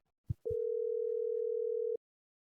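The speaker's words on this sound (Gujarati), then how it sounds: "દેવાન ફોન કરું તો થોડો ટાઈમ પાસ થાય" A telephone dial tone sounds while a call is being placed: a couple of soft handset clicks, then one steady, clean tone that holds for about a second and a half before cutting off abruptly into silence.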